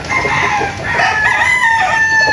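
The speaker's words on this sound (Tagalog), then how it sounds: "Ito yung ibang mga manok dito sa Tilaok." Gamecock roosters at the Tilaok game farm crow in overlapping calls close by, with a steady farmyard din underneath and no talking.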